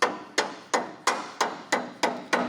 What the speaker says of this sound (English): Knock it over with a hammer.